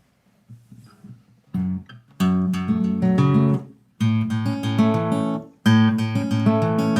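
A guitar plays the repeating riff from a song, with picked notes across the strings. Quiet opening plucks build into fuller strummed phrases that return in cycles, heard close and alone.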